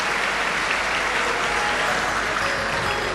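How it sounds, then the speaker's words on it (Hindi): Loud, sustained applause from a large audience at a Hindu religious discourse on the Shiv Mahapuran, a dense even clapping that fills the whole span without pause. "एक बार सभी यजमान परिवार के लिए जोरदार ताली बजाकर स्वागत, वंदन, अभिनंदन।"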